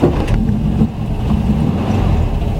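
A VW Autovilla camper van engine fires up from cold and runs with a loud, rough, steady rumble. It sounds close by, and no one speaks over it.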